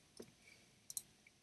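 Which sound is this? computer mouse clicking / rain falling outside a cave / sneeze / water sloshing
computer mouse clicking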